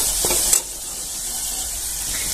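Spice masala with cumin and coriander sizzles steadily in a pan for a Marathi village-style horse gram bhaji, with a brief utensil scrape early on and continuous close frying hiss.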